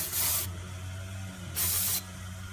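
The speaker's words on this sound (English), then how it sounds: "now we're going to give it a good spray down with some brake cleaner before we do anything" Brake cleaner sprayed onto the front brakes of a 2007 Toyota RAV4 in two strong, close hissing bursts, with a pause between them, over a steady low hum.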